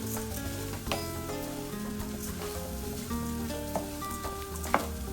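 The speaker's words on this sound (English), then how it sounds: "So I have 1 1/2 cup of bomba rice here. And we're going to stir this all around." Bomba rice sizzles steadily in hot oil while being stirred, with a continuous close crackle and occasional scraping clicks of the utensil against the pan.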